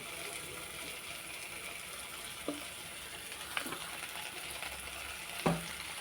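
Pasta with tomato sauce being stirred in a pan, a soft continuous sizzle with a few faint scraping knocks of the spoon against the pan, quiet and close, no voices.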